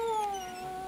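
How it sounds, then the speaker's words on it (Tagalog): A dog howls in a single drawn-out, wavering tonal wail that slides slightly downward, close and fairly clear over a quiet background, lasting under a second. "Nagalulong aso na yan dito."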